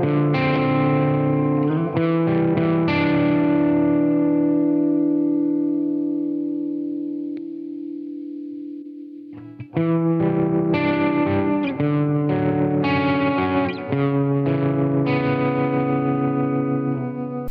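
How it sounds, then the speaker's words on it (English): An electric guitar runs through a Blackstar St. James amp sim plugin, played as chords and picked notes with effects and echo, one chord ringing out and fading before strumming resumes. "we should hear just the guitar through the amp sim."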